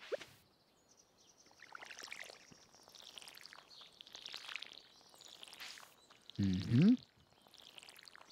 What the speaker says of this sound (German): Ich müsste noch meine Pflanzen gießen